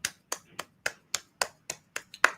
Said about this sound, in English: claps for